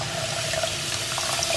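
Water runs steadily into sugar in a cooking pan for ghee Mysore pak, a continuous close splashing pour with no break and no voices.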